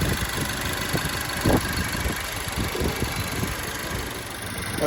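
A Volvo XC60 car engine idles with a low, steady rumble and faint mechanical ticking, continuous and fairly close throughout.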